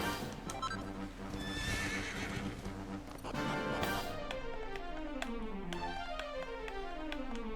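Horse neighing and galloping in the video game Dragon Quest XI, a loud whinny followed by steady clip-clop hoofbeats, set over game music throughout.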